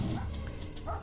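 In the video game Mr. Prepper, a dog gives a few short barks and yips over a steady low background hum.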